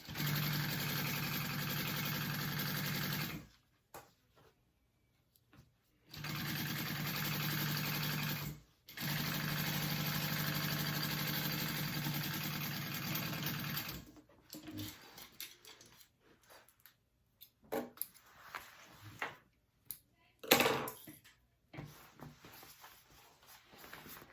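A sewing machine stitches a 3/8 inch seam on a Waterlily tote bag, running in steady bursts of several seconds with short pauses between, then stopping and starting in shorter, irregular runs near the end.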